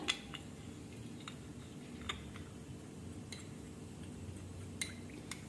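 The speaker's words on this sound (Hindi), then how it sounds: "अब उसके अंदर हम डाल देते हैं थोड़ा सा पानी और इसे 1 चम्मच से बहुत अच्छे से हमें मिक्स कर लेना है" A spoon mixes cornflour with water in a bowl, giving quiet, scattered metallic clinks and taps against the dish. A soft background murmur runs underneath.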